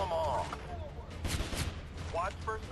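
Gunfire in the mobile shooter Frontline Commando 2, heard as a short cluster of loud, sharp shot bursts in the middle of the clip, with quieter game sounds and faint voice-like tones around them.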